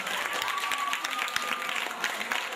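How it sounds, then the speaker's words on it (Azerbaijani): An audience applauds at a Ramadan gathering, a dense steady patter of many hands clapping at moderate distance, continuous throughout without pause. "Bu xalalar üçün, bu əmilər üçün bir alqış istəyəcəm sizdən"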